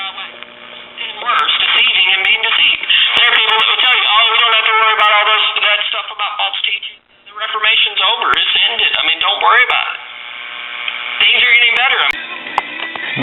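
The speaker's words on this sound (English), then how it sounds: "Yeah, we've got some audio. Have a radio station coming in." A Trav-Ler tube radio picks up a station, its thin, boxy broadcast of voices and music playing steadily with a brief dropout midway.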